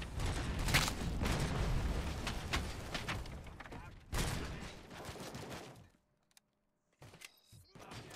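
Grenades and gunfire rage in the RoboCop: Rogue City video game, dense rapid bursts of shots and blasts in two long loud stretches, then a near-silent pause before a few clanking effects return.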